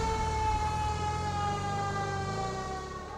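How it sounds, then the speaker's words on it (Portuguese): A fire truck siren in the Brasilia RP driving game wails loud and steady, a sustained rich electronic tone holding close with no talk over it. "Mas essa sirene do bombeiro é alta, hein?"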